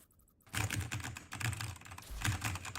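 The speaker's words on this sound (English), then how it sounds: "Can hear you typing, man." Fast typing on a computer keyboard during an online hero game session, the clattering keystrokes loud and close, running steadily for a few seconds after a brief quiet start, with no voices.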